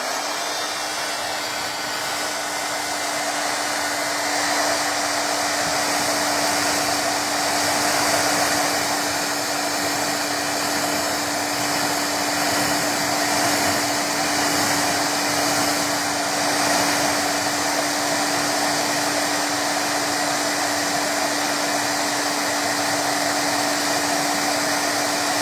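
A hair dryer blows steadily on freshly painted Aztec-style earrings, a constant close whoosh with a fixed motor hum that runs without a break for the whole stretch, with no talking over it.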